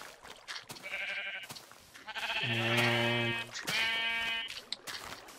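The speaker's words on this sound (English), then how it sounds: "I got a rainbow of sheep here." Sheep in Minecraft bleat several times in overlapping calls, loud and near, with a brief spoken word at the start.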